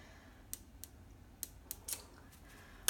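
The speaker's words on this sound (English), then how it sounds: "You're also going to need scissors." Scissors handled while making a deco mesh wreath: a handful of sharp, isolated metallic clicks and snips spaced irregularly over quiet room tone, close and distinct.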